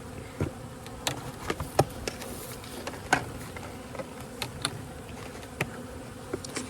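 Honey bees buzz steadily around a beehive during a fall inspection, with sharp close passes as individual bees fly near, fairly quiet and with no talk.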